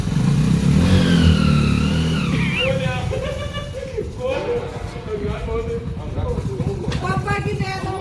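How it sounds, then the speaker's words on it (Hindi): A motorcycle engine revs and runs close by, its mid-pitched drone rising and holding, while people talk loudly over it throughout. "पापा की दया से मोटरसाइकिल में जान मिल गई"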